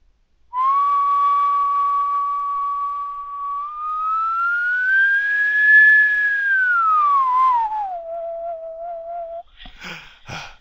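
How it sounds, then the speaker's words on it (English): A single person whistles a clean, steady pure tone that holds level, glides up to a higher pitch, then slides back down and settles, close and clear with nothing else under it, followed by a few brief clicks at the end. "if I whistle and make it higher and lower"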